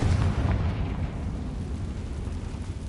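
A fiery Confringo spell explodes in the Hogwarts Legacy video game: a loud booming burst at the start that rumbles away into a fading, noisy tail, with no talking.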